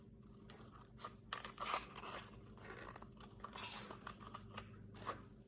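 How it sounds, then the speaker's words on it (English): Quiet, irregular snips and crunchy rustles of scissors cutting paper, close by, with short pauses between cuts and no talking. "we're going to have to cut a little U shape in them. So get the scissors"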